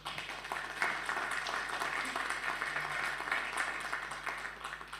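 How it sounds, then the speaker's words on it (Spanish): A seminar room full of people applauds, a steady wash of clapping that holds for several seconds before tapering slightly at the end. "Así que también un aplauso para ellos"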